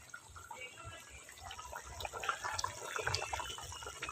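A pot of drumstick gravy bubbles at a vigorous boil, heard close as a continuous gurgling, popping simmer that grows slightly louder, with no speech.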